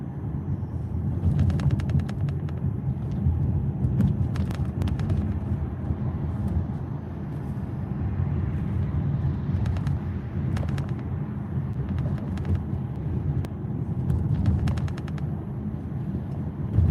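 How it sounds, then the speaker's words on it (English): Scattered sharp gunshots pop at irregular intervals in the distance over a continuous low rumble of traffic or engine noise, some in quick bursts, with no speech. "Got some gunshots going off."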